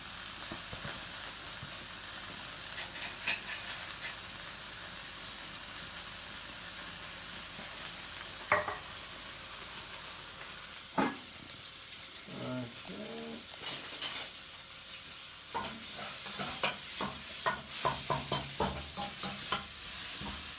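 Cumin seeds frying in a pan with a little water and a lid, a steady low sizzle with occasional sharper crackles and stirring clinks, fairly close and without talk.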